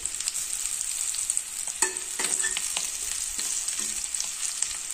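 Sliced bitter gourd fries in a pan with a little oil over medium heat, giving a steady close bright sizzle with occasional stirring scrapes.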